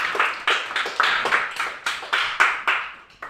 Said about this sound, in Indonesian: kasih aplaus untuk kelompok 1